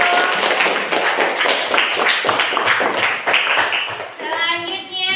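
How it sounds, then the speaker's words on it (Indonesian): A classroom group claps for the first presenting team, a dense burst of many hands that keeps going at a steady level before thinning out, with children's voices faintly mixed in near the end. "tepuk tangan untuk kelompok 1"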